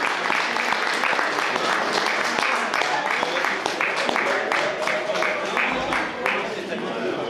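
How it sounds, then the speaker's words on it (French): A 2016 convention crowd applauds after a speed-coding contest result, sustained clapping from many people with a few sharper individual claps standing out, lasting around seven seconds while voices murmur underneath. "Je pense qu'on peut tous les applaudir"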